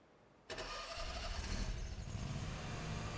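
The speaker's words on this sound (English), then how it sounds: "Oh, start the engine." A lawn mower engine in the Lawn Mowing Simulator video game on PS5 kicks in abruptly, then settles into a steady, loud running rumble with no one talking.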